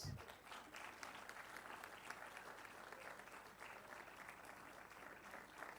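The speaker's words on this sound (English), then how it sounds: "Round of applause, please." Steady applause from a large audience at a convocation ceremony for an MBA in financial services, a dense continuous patter of many hands lasting throughout at moderate volume, with no talk over it.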